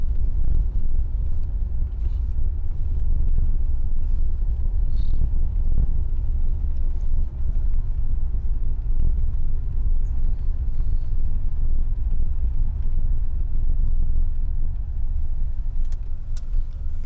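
Mercedes W126 car on a drive, a low steady engine rumble with road noise, continuous from start to finish, with no voices.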